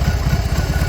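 BMW R18 Transcontinental motorcycle with its 1800 cc boxer twin idling, a steady low, lumpy throb with a pulsing rhythm and mechanical vibration, close and continuous.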